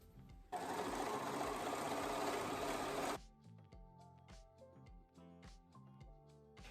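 A sewing machine runs in a steady fast burst of stitching for a few seconds on trouser alterations, then stops, followed by quieter clicks and mechanical knocks of the machine being handled.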